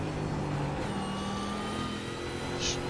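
A V8 Supercar in a New Zealand race accelerates at full throttle, its engine a loud, sustained roar with rising pitch, heard continuously from trackside without talk.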